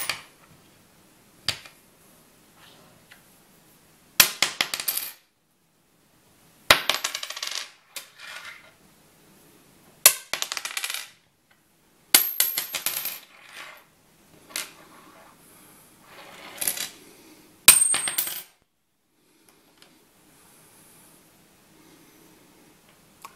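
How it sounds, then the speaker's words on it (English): Coins, among them a Susan B. Anthony dollar, dropped one batch at a time onto a wooden table, giving about eight separate bursts of sharp, close metallic clinks and rattling spins with quiet gaps between them and no talking. "The sound of coins as they hit the wood table"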